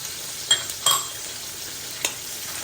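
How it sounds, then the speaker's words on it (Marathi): Pomfret green masala with salt and turmeric being sautéed in oil, a low steady sizzle with three short spoon scrapes and clinks against the pan, close and without talk. "चांगलं परतून घेऊया"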